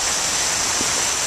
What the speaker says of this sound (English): It's water.